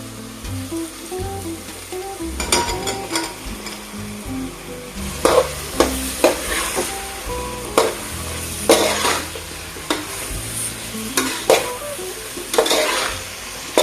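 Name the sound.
mushrooms frying and stirred in spice masala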